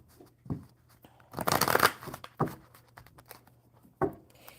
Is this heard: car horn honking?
no